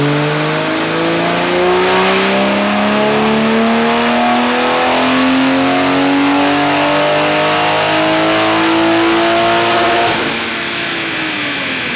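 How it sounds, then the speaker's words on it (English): A BMW B58 engine in a tuned Toyota Supra on pump gas revs hard on a dyno pull, its pitch climbing steadily for about ten seconds before cutting off, loud and close with a raspy exhaust note. "So we're going to get into a little dyno pull for you guys here."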